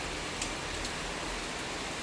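Rain falls steadily outside a home kitchen, a soft even hiss with a few faint drip ticks, fairly quiet and unbroken.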